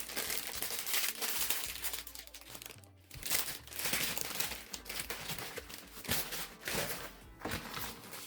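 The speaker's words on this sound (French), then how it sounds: "Je viens déballer ma pâte à pizza." Packaged pizza dough is unwrapped up close, giving loud, continuous crinkling and rustling of plastic and paper with a few sharper crackles and tears along the way.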